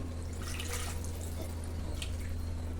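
Water pours and trickles into a pot of mutton kuzhambu in a steady splashing stream, close by, over a low electrical hum, with no talking.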